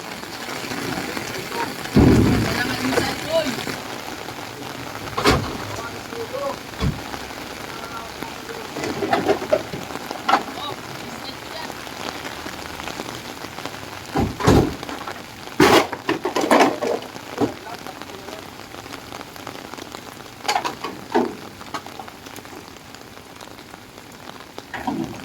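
Heavy rain hammers down outdoors during a pickup and delivery job, a constant hissing patter broken by several sharp knocks and clatters, with people talking faintly in the background.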